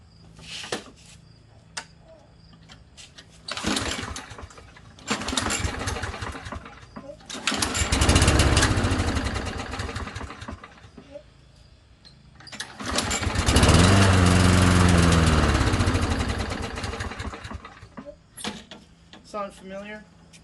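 Small lawn mower engine in need of maintenance, heard through several loud start-up bursts that sputter and die, then catching and running with a steady, close rumble for a few seconds before it cuts out.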